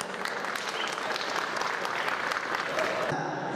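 An audience applauds a singer being called up to perform, a steady, dense wash of clapping that holds evenly for several seconds before thinning at the end, with some crowd noise mixed in.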